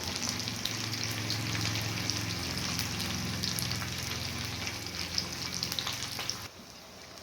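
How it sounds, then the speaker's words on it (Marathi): Stuffed green chillies fry in a pan over a medium flame, giving a steady, close sizzle that stays constant for several seconds and then drops off near the end. "मिरचीची एक साइड व्यवस्थित परतली गेली की मगच आपण मिरच्या पलटी मारायच्या आहेत"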